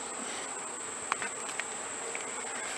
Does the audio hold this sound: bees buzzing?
yes